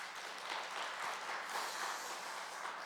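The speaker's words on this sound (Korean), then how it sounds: "그런 의미에서 박수 한번 더 하십시다." A church congregation applauding during a Wednesday worship service, a soft, even patter of many hands clapping that is fairly distant and continues steadily for a few seconds without talk.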